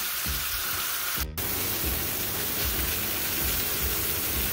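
Pot roast beef searing in a pan on a stove over medium-high heat, a steady close hiss and sizzle, broad and even throughout, with a brief sharp tap partway through.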